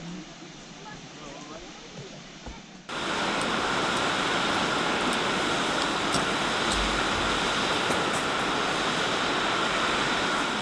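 Rötelmoos waterfall plunging through the Rötelmoos gorge in Upper Bavaria, a loud, steady broadband roar that begins abruptly after a quieter stretch with faint voices and then continues unbroken and close.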